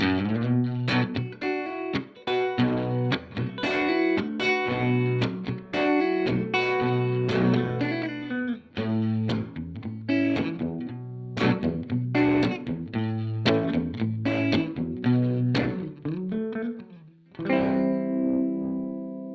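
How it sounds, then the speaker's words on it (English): An electric guitar runs through an EHX Stereo Pulsar Nano tremolo set for ping pong. Strummed chords and notes pulse in quick, choppy bursts, loud and close, with brief gaps and a final ringing chord. "That gives you that ping pong effect in full force."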